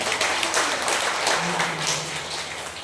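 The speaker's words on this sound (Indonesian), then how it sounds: "Tepuk tangan dulu." A congregation at a Catholic charismatic prayer gathering in a Makassar cathedral breaks into moderate clapping that holds steady for a few seconds, then thins slightly toward the end.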